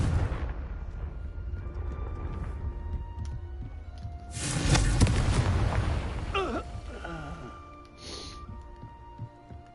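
Confringo fire-blast spell exploding in Hogwarts Legacy, a booming burst with crackling rumble rising midway through over ongoing game ambience, followed by fainter whooshing effects.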